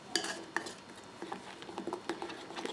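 A spoon stirs royal icing in a bowl, giving soft, quiet scraping and irregular light clicks of metal against the bowl close by.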